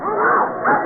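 One dog barks with a yapping, whimpering tone, close and loud for under a second. The sound is band-limited, as if from an old radio drama recording.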